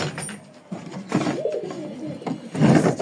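Pigeons inside a covered home coop coo and stir at close range, with rustling and wooden knocks as the loft is opened and the birds grow restless.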